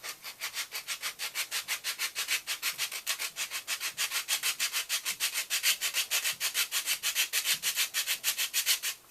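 A wooden kirar neck is hand sanded along its whole length in fast, even rubbing strokes, a steady hissy scratching rhythm close by with no speech.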